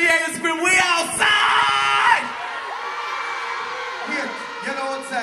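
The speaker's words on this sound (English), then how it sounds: "If you're having fun this morning, let me hear you scream, we outside!" A large outdoor festival crowd at Sumfest in Jamaica yells, whoops and cheers loudly, with shouted voices rising and falling throughout.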